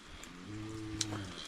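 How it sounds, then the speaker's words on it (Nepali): A cow on a farm in Ilam, Nepal gives one drawn-out low moo, close and moderately loud, with faint background ambience and no talk. "यहाँ गाई पाल्नु भएको रहेछ"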